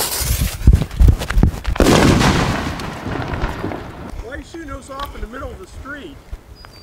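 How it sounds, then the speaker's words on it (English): Fireworks go off on a residential street: several sharp, loud bangs and crackling bursts in quick succession, trailing into a fading rumble, followed by people talking. "They're lighting off fireworks too."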